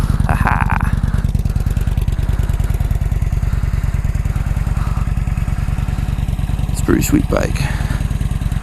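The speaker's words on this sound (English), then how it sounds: "here's the bike. Kawasaki Vulcan 900 Classic." A Kawasaki Vulcan 900 Classic motorcycle idles close by with a loud, steady, rapid low thumping pulse, while someone speaks briefly over it.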